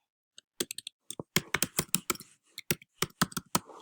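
Typing on a computer keyboard to enter slide text in PowerPoint: bursts of sharp, close key clicks in quick uneven runs separated by brief pauses, with no one talking.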